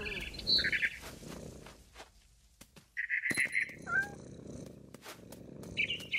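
A cat meows several times in What Remains of Edith Finch, short tonal cries scattered over soft outdoor ambience, with a brief chirp from a frightened barn swallow nearby.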